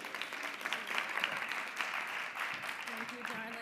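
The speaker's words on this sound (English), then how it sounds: "You guys give her a big round of applause." Conference audience clapping as a panel speaker is called up at the HLN 2022 Web3 event, fairly quiet, steady applause with a few louder individual claps and some faint voices underneath.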